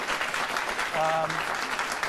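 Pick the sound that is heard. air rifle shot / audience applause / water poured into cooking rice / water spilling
audience applause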